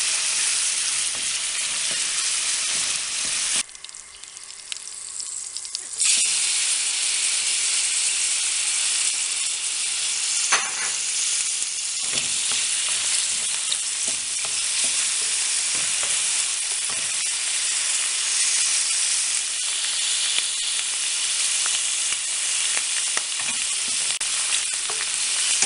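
Mushrooms frying in the oil left over from cooking kefta, a steady broadband sizzle with frequent stirring clatter, loud and close, with a short quieter break early on and no talk.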